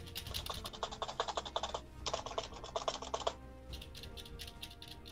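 Rapid bursts of keyboard and mouse clicking during a Shellshock Live artillery match, close and crisp, coming in quick runs with a short pause between them and no talking.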